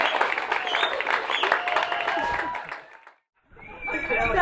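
Wedding guests cheering and clapping after the couple is pronounced husband and wife, a burst of crowd applause and whoops that fades out, then resumes briefly after a short silence.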